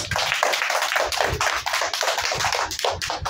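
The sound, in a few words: classroom of children clapping for a student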